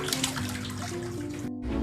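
Water splashing in a swimming pool as someone bathes, a continuous close sloshing and rushing wash that cuts off abruptly near the end.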